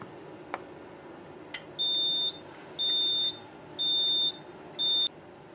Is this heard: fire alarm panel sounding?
yes